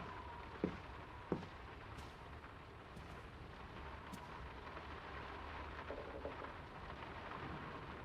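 Heavy rain and thunder in the video game Draugen, a steady downpour hissing throughout, with two sharp close thunder cracks early on and a low rumble underneath.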